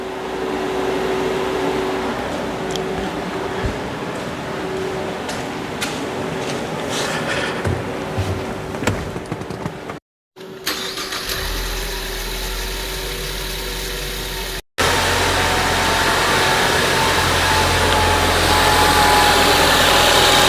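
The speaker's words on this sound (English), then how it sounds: "So I'm going to start it now and see if just a little bit of refrigerant that went in causes the compressor to engage." A 2016 Ford Escape idles with a low, steady engine hum and a slight vibration. After two brief cutouts the engine sound becomes louder and fuller, close by with no talk.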